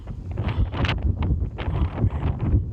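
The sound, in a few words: wind blowing on a mountain trail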